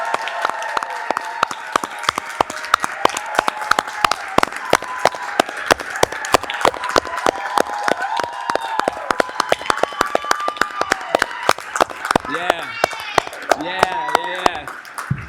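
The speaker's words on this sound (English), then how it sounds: "Can we get a huge round of applause for our stellar student?" Scattered sharp claps from a small group at a school district meeting, irregular and close, with voices talking and exclaiming over them.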